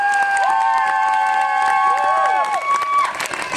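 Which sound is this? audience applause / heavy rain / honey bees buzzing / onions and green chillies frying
audience applause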